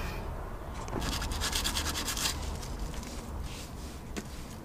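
Sandpaper rubs by hand across a track car's panel in steady back-and-forth strokes, a close, continuous scratchy rasp with brief bursts of faster scrubbing and no talk.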